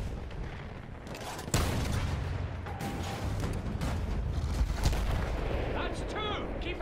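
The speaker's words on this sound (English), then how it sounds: "Cannon's gonna slow us down!" Field gun cannon fire booms during a World War I village assault in Battlefield 1, with one sharp blast standing out above a continuous rumble of battle. Shouted voices and combat noise run underneath.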